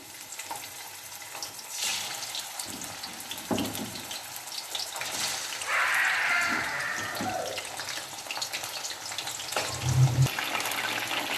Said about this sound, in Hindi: कुकिंग ऑयल हमारा गर्म हो गया है, अब हम इसमें चिकन डालेंगे और चिकन को अच्छी तरह हमने इसमें फ्राई करना है